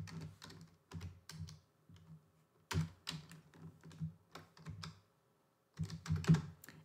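Fast computer keyboard typing of a phone number, with clusters of crisp key clicks in short bursts, a pause, then a final flurry, close and moderately loud with no talking.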